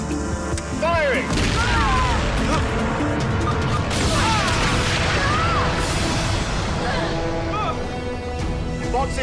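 Weapon blasts from a Power Rangers RPM action episode, a dense run of loud booms and crashes layered with whooshing sci-fi effects, continuous and close, with voices shouting among the explosions.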